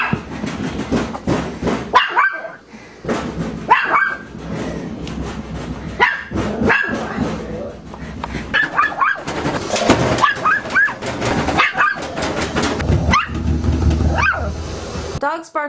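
A Chihuahua barks in sharp, rapid bursts across the whole stretch, near and insistent, mixed with yelps and whines, with someone talking at points over the barking.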